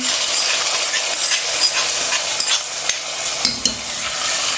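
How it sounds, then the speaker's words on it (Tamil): Tempering poured into simmering curry (kuzhambu) crackles and sizzles steadily while a spoon stirs and scrapes the pot with repeated clinks, close and fairly loud, with no voices. "இப்போ இதெல்லாம் தாளிப்பு ஊற்றிடலாம்."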